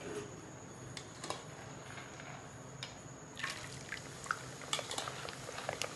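Chana dal frying in hot oil over a high flame while making tangy chana dal namkeen, a steady low sizzle with scattered crackles and pops that grow busier partway through.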